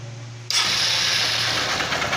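A 150cc motorcycle engine with a knocking connecting rod catches abruptly and settles into a loud, steady, rough idle close to the listener.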